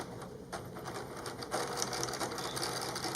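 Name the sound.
sewing machine sewing channel piece onto a mask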